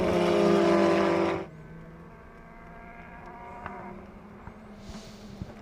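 Saleen Cup race cars at Watkins Glen, their engines breaking up: a loud, rough engine roar for about a second and a half, then a thinner, steadier drone from farther off with a few faint ticks.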